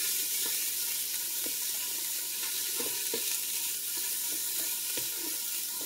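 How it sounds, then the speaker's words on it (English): A spoon scrapes browned bits off the bottom of a pot of chicken pot pie soup over a loud, continuous sizzle, with repeated short scraping strokes up close. "Getting all those num-nums off the bottom of the pot."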